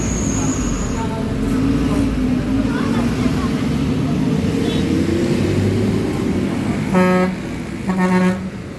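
Busy road traffic rumbles steadily with passing vehicles, then two loud car horn honks sound close together near the end, with faint voices in the background.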